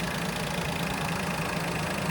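A 2018 Peugeot 208 engine runs after an oil top-up in a steady, even, close-up hum, with no change in pitch until it cuts off at the end.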